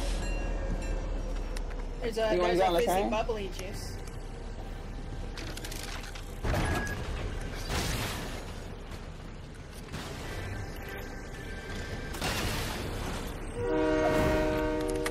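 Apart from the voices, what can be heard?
train and train horn in the video game Fortnite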